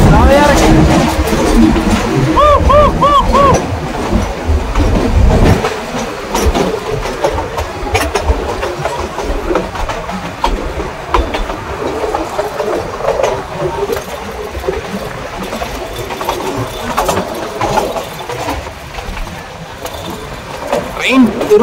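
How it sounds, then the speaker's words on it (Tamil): Ooty mountain train on a hill route runs along the rails with a loud, continuous rumble and rattle. A brief tonal wail rises near the start, and voices come and go over the steady noise. "ட்ரெயின் திரும்புறது நல்லாவே தெரிஞ்சு பார்த்தீங்களா"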